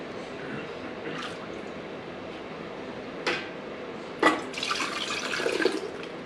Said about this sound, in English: We're going to start filling the mason jars, but look how beautiful that broth is.